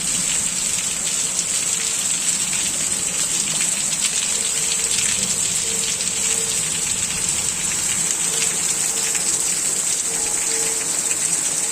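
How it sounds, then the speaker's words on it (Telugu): Heavy rain from a thunderstorm falls steadily over fields, a loud constant hiss of drops with no thunder standing out and no voices. "ఉరుములు మెరుపులతో పెద్ద పెద్ద పిడుగులతో వచ్చిన వర్షం అండి."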